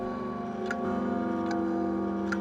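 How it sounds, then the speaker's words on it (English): A clock in the Discworld II: Mortality Bytes video game ticks about once every 0.8 seconds, three soft regular beats over a steady humming background of game music. "What a lovely brutal swooshing sound this clock makes."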